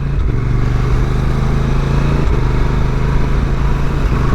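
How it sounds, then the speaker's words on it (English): 2022 Honda NT1100 motorcycle accelerating hard with a quick shifter, a loud continuous engine drone with brief dips at each upshift, heard close over heavy wind rush. "the quick shifter all the way up through the box, and that satisfying change"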